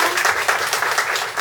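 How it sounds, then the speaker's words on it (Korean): Steady applause from an audience at a poet's book concert, a dense wash of clapping hands that holds evenly throughout with no voices rising above it. "다시 한 번 더 박수 부탁드리겠습니다"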